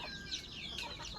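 Chickens clucking softly in a farmyard, a few short overlapping clucks close by with a steady low background hum and no talking.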